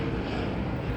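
An overhead helicopter gives a loud, steady engine drone that stays constant and close for the whole short moment, with no talk.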